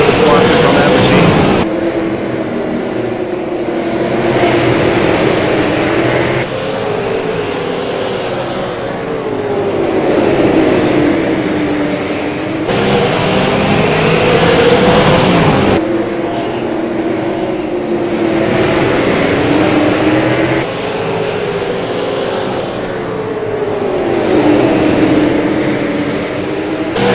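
Super late model stock cars race at Lanier National Speedway, a continuous loud engine roar that rises and falls in repeated sweeps as the pack passes close, with an announcer's voice running over it.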